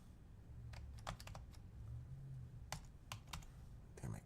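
Computer keyboard typed on in quick irregular bursts of sharp clicks, faint and close, with a low background hum.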